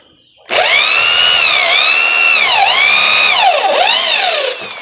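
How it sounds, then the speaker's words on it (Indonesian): An electric drill runs at full speed, a loud steady whine whose pitch dips and recovers several times as the bit bites and breaks through, powered through a 60 microfarad capacitor, then winds down at the end. "Jadi coba kita mengebor lagi"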